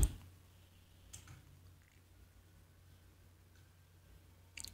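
A computer mouse clicked while working in Blender's draw tool, a few sharp, isolated clicks spaced over several seconds in a quiet room, with a small cluster at the end.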